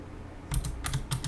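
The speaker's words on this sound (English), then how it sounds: "I don't want to type that much" Quick bursts of key presses on a computer keyboard while setting up a Unity 2D platformer project, clustered in three short runs of clicks, close and fairly quiet with no talk.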